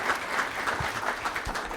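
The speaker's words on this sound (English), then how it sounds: "A little round of applause for our buddy here." Audience applause at an industry conference, a dense patter of many hands clapping steadily at moderate loudness, with a few louder individual claps standing out.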